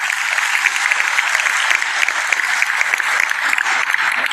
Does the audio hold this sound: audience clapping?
yes